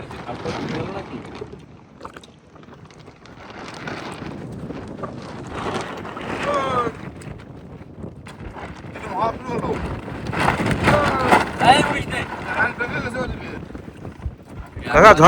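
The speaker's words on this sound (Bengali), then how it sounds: "মারাত্মক ঠান্ডা হাওয়া করে তো আওয়াজ হচ্ছে" Strong, cold storm wind gusts roar over a river in the Sundarbans while fishermen work from a boat at dusk, rising and falling in loud buffeting surges with people talking throughout.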